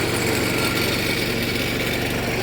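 A 21 HP Kubota tractor engine running in a sugarcane field, a loud, steady close-up mechanical drone with a constant rumble and no voices.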